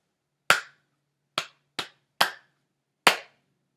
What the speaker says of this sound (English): I am going to clap now, and you tell me if I'm clapping that rhythm